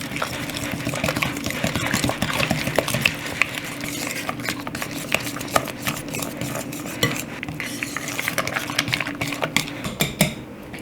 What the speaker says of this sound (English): And just start mixing this together till it's really combined.